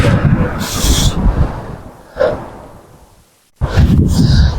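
An 8-iron golf swing in strong 25 mph wind, heard as a quick whoosh and a brief strike partway through, set between loud, buffeting gusts on the microphone that cut out sharply for a moment before roaring back.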